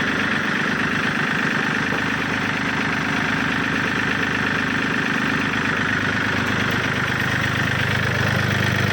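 A Yanmar 39 hp tractor engine runs steadily at idle, its low knocking diesel chug continuous and close throughout, with no voices over it.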